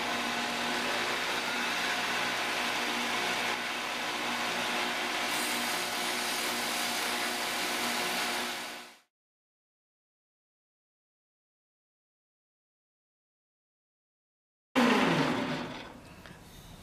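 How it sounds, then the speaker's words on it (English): Steady broadband whir of a Shopsmith lathe spinning a turned pen while 100-grit sandpaper is held against it, loud and continuous for several seconds, then cutting to silence before machine noise returns briefly. "For doing the bulk of the sanding and bringing it down, I'll use 100 grit sandpaper and also speed up the lathe a little bit."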